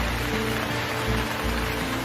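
Heavy rain pours in a Hindi cartoon, a steady, dense hiss of falling water with a low rumble underneath, continuous and fairly loud with no voices.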